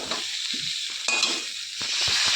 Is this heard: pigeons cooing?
no